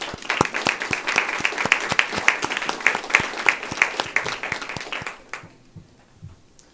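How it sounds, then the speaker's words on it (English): A round of applause fills a board meeting room: many hands clapping steadily at moderate volume for about five seconds, then fading out to quiet. "I would ask for a round of applause."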